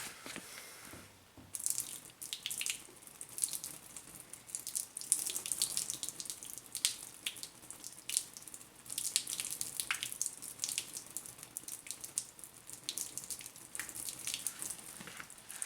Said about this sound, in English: we're gonna try pouring some boiling water on this thing